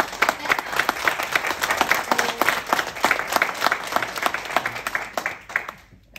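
An audience applauds after a presentation at a business event, a steady dense clapping that runs close and loud for several seconds before cutting off.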